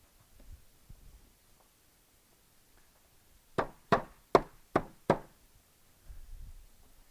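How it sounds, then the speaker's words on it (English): A rubber mallet knocks pegs into the loops of a MegaChess commercial-grade roll-up chessboard: five sharp, close knocks in quick, even succession after a quiet stretch, with no talking. "I personally like to use a rubber mallet."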